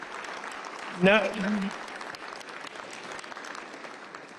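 An audience applauds the Tennessee Governor, a steady wash of clapping throughout, briefly swelling as a voice speaks over it.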